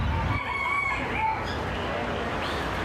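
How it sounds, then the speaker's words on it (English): Chickens cluck and a rooster crows at an Australian agricultural show, the calls fairly close and standing out over a steady crowd murmur. "You can probably hear the chickens in the background."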